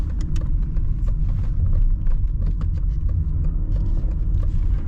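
A BMW E34 520i 24V rolls slowly off the road on 15-inch tires, heard from inside as a loud, steady low rumble with bumps, rattles and small clinks throughout.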